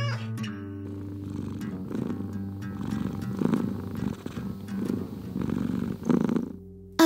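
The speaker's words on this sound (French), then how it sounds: "le chat refuse et continue de griffer et de ronronner" Steady, rumbling cat purring up close, continuous with a rhythmic rise and fall as the cat breathes in and out.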